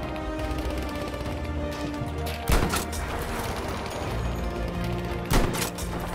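Gunfire in Battlefield V: two sharp, loud shots several seconds apart stand out over continuous game ambience.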